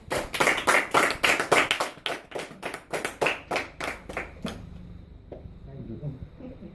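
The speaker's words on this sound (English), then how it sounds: "Everyone should clap for themselves." An audience at a camp gathering claps together in a fairly steady, rhythmic burst of many hands for about four and a half seconds, then stops, leaving quiet room noise and faint voices.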